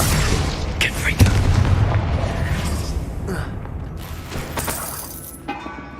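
Confringo fire spell blast in the Hogwarts Legacy video game, a loud booming explosion with crackling debris that rumbles and slowly fades.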